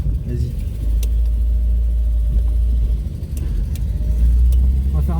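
An Audi 80 B2 drives along a road after a brake bleed, its engine producing a steady low rumble throughout with occasional clicks, while people talk inside the car.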